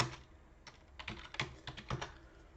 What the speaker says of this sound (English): I'm just going to type hi there to him.